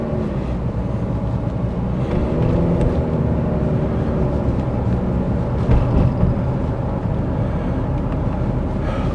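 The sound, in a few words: road traffic in Paphos town centre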